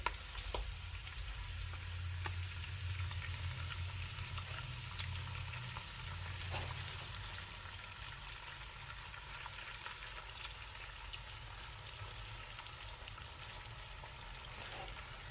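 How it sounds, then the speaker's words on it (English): Collard greens fry in bacon grease in a cast iron pan, a faint, steady sizzle with soft crackles that stays low and even throughout. "So now I'm going to take half the collard greens, put them in this bacon grease"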